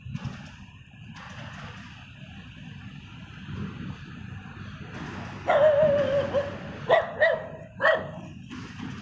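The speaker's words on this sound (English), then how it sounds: "Dog." A dog barks a few times in the background, sharp yelps and whimper-like barks coming in short bursts over a quiet hum of ambient noise, with no one talking.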